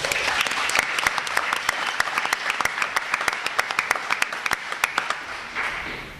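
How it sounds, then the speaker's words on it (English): An audience at a panel on BDS campaigns breaks into applause, a dense run of sharp claps that stays fairly steady and close, then thins out and fades near the end. "So a round of applause for the US campaign."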